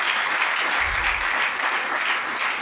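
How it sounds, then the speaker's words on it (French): A church congregation applauds, a dense, steady wash of clapping from many hands that holds evenly throughout the short stretch, with no clear voices on top. "Acclame Jésus."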